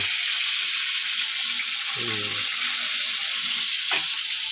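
Fish fries in a pan with a loud, steady, close sizzle that never lets up. A brief voice and a few small clinks come through under the frying.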